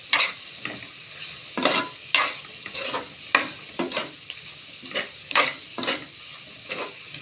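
Sambar powder stirred and fried with tomato and capsicum in a pan, a steady sizzle broken by repeated scraping strokes of a spoon every half second or so, close and fairly loud with no talk.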